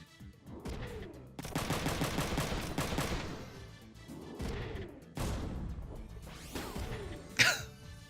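Rifle fire from a mech in the video game Front Mission 3, with two loud rattling volleys of rapid shots separated by a brief lull and ending in a sharp impact crash.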